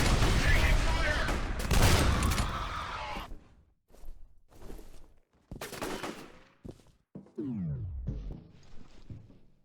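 Loud bursts of gunfire erupt in F.E.A.R., a sustained volley up front, then separated shots and short salvos with gaps of quiet between, some trailing off with sweeping effects.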